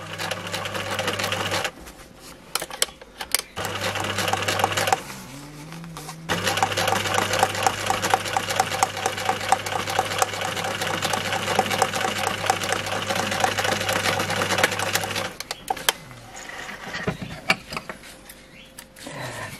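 A sewing machine stitches fabric for a face mask in close, rhythmic bursts, with a short run, brief stops, then a long steady stretch of fast needle clatter and motor hum, ending with fabric handling.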